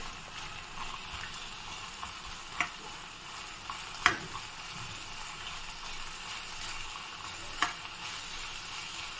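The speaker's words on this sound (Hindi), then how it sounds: "नट्स को अच्छे से फ्राई करेंगे" Nuts frying in ghee for carrot halwa make a steady, even sizzle throughout, with three brief metallic clinks of a spoon against the pan standing out.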